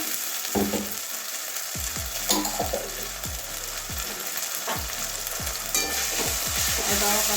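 Steady loud sizzling of garlic paste frying in a pan, with repeated scraping strokes of a spatula stirring it, no talking.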